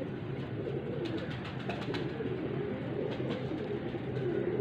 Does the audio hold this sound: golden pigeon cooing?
yes